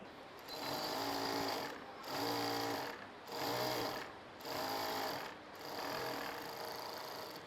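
A sewing machine stitches a shirred top with elastic thread, running in five steady bursts separated by brief pauses, close and moderately quiet with a rapid mechanical chatter, no talk.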